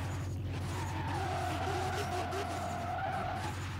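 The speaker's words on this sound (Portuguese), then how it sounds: "quer fazer um zerinho em volta do meu carro" Car tires squeal and skid continuously as a car spins donuts in Forza Horizon 3, a sustained wavering screech over engine rumble, fairly close.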